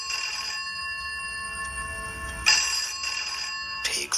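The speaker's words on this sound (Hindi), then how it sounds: "और तभी कमरे का फोन बजा," A room telephone rings in bursts, a bright metallic electronic bell tone sounding loud and close in repeated pulses with brief pauses between, used as a sound effect in a scary story.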